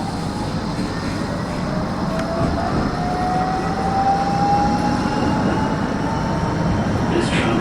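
A Blackpool tram bound for Fleetwood Ferry rolls along with a steady, loud low rumble from inside the car, while a faint thin whine slowly rises and fades in the middle.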